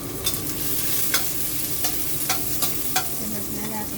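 Garlic sizzling in hot oil in a pan along with ginger for pinakbet: a loud, continuous frying hiss with several sharp spatula scrapes spaced through it.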